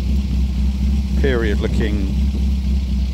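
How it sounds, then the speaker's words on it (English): An MG MGB roadster, modified, idles with a steady low rumbling engine close by, running evenly throughout while someone speaks briefly over it midway. "Starts on the button, as you can hear, it's idling beautifully."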